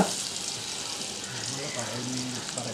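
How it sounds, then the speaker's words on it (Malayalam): Butter going into about four tablespoons of hot oil in a pan for stovetop tandoori chicken, giving a soft, even sizzle that holds steady throughout, with a voice talking faintly underneath. "ഒരു നാല് ടേബിൾ സ്പൂൺ എണ്ണ ഒഴിച്ചു കൊടുക്കുക അതിനുശേഷം ശകലം ബട്ടർ ഇട്ട് കൊടുക്കുക"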